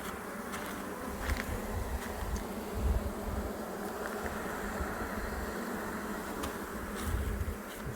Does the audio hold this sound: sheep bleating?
no